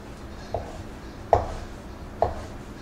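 Knife slicing through an avocado at the kitchen counter while plating tuna, shrimp and octopus tostadas: three soft, short cuts spaced about a second apart, close and fairly quiet, with no one talking.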